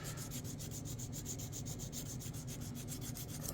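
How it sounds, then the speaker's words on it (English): A diamond file rasps back and forth across a small three-blade RC boat propeller, giving a steady, even run of close scraping strokes throughout. "Now I'll use this diamond file because it's not very like aggressive with this little"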